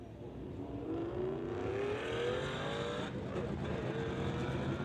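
A Nissan 350Z and a Ford Mustang run a street-legal drag race. Their engines give a steady, distant roar with rising revs as the cars pull down the strip.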